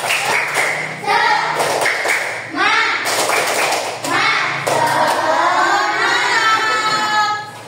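Rhythmic tepuk semangat spirit chant in a classroom, with sharp clapped beats in repeating patterns alongside chanting voices, loud and close.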